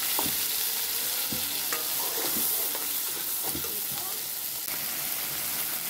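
Spice paste of ginger, cumin, dried chili, tomato, cashew and raisin hits hot oil in a pan, giving a loud continuous sizzle with stirring scrapes and clinks over it, no talk heard.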